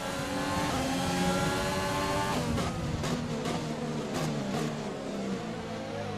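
Formula One cars racing in the F1 2020 video game, several engines droning and shifting pitch together in traffic, with sharp passing surges and a steady loud roar throughout.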